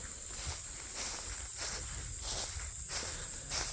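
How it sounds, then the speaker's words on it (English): Insects drone and chirp in woods near a lake, a steady high-pitched buzzing hum with regular rising pulses, plus faint footsteps and rustling underneath. "lots of bugs"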